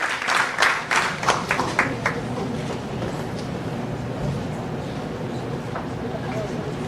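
An audience in a congressional hall applauds Dr. Baltasar Trujillo, a burst of dense clapping in the first couple of seconds that fades into a noisy room murmur.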